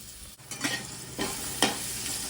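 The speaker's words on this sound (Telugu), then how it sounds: "కొంచెం నూనె వేసుకొని ఈ వెల్లుల్లిపై మనం దంచి ఉంచుకున్నాం కదా దాన్ని బాగా వేయించుకోవాలన్నమాట" Crushed garlic fries in a little oil, a steady soft sizzle broken by three bursts of scraping stirs, close and moderately loud with no talking.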